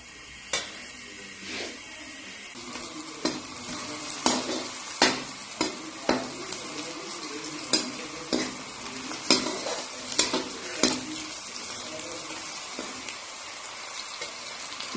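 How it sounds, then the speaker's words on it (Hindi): Chopped onions fry in a hot pan for onion-browning before garlic and ginger paste go in, a steady sizzle broken by repeated scrapes and clacks of a stirring spoon against the metal, close and clear with no talking. "ये डाल दिए प्याज। इनको हल्का गोल्डन होने तक पकाऊंगी।"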